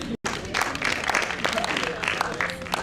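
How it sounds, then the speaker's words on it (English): An audience in a university theatre bursts into applause for a speaker, a dense, steady wash of many hands clapping that fills the room, with voices talking over it. "Clap for him."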